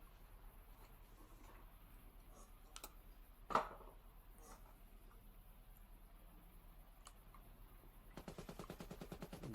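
Gunfire in a competitive Halo match: faint, scattered shots with one sharp, louder crack, then a rapid automatic burst near the end, all over quiet clicking.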